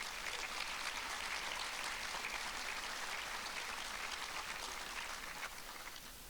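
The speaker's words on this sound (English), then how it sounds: "If you don't mind, please give them a round of applause as well." Sustained audience applause for event sponsors at a talk held at the Atlanta History Museum, a dense, steady wash of many hands clapping that holds for several seconds before easing slightly at the end.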